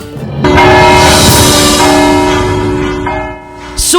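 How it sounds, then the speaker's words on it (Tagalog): Loud church bells in Bohol ringing continuously with a rich, sustained metallic tone, close and dominant, a brief dip near the end before another strike. "dungan nga gipatingog ang mga kampana sa pipila ka simbahan sa Bohol"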